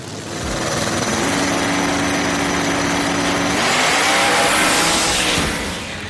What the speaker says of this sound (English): they were neck and neck to about half track, and then those twin turbos kicked in